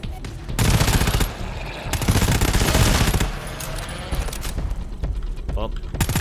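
Rapid automatic gunfire from weapons in the co-op shooter GTFO, loud, dense bursts that run through most of the moment with short lulls between volleys.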